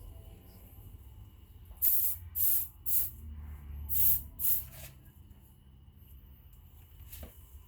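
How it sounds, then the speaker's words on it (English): Five short bursts of hissing aerosol hair product sprayed onto hair in quick succession, close and fairly loud, followed by quiet with a faint click. "I'm going to spray my product on my hair"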